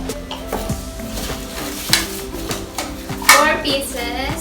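Plastic Tupperware mini bowls and large bowls handled while unboxing, with light clacks, knocks and rattles of plastic pieces set down and shifted, a few sharper bumps near the end, close and fairly quiet.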